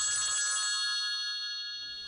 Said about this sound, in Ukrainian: Наступного дня залунали телефонні дзвінки.